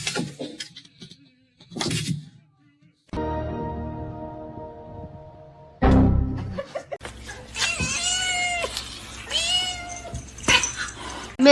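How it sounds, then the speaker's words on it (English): A kitten lets out a few meows, including two drawn-out wavering cries near the end, mixed with other scattered noises and a sustained tone. "Look at this little kitten."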